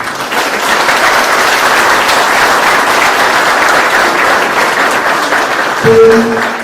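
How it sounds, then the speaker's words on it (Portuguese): Steady, full applause from a crowd at a centenary event for a town band, many hands clapping continuously at moderate distance, with a brief tonal sound and a faint voice near the end. "eu peço uma salva de palmas a esse homem"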